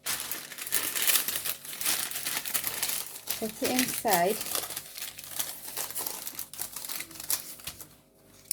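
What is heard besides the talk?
parchment paper crinkling as it is placed in pastry dish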